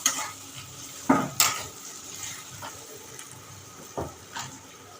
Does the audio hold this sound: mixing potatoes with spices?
yes